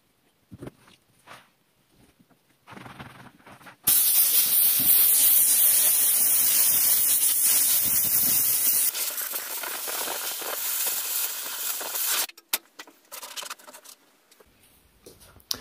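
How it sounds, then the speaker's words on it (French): Compressed air blower drying a car tyre after foam cleaning and dressing: a loud, steady high hiss of air that blasts on abruptly and holds for several seconds, then drops to a softer blowing before cutting off. "j'ai passé un coup de soufflette pour accélérer le séchage"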